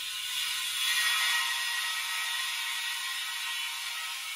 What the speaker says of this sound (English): Now you can see it's airing into this other tank.